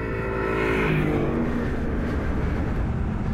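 Aston Martin Vantage S V8 sports car engine revs loudly and close by, pitch rising for about a second and then settling into a steady throaty drone with exhaust roar. No one speaks.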